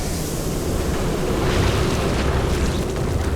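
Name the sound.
gas released on infested Terrans in the video game StarCraft 2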